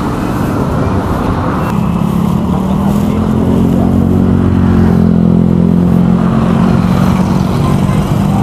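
Motorcycle engines rumble steadily close by, a low droning hum that swells slightly midway as bikes pass, with faint background voices.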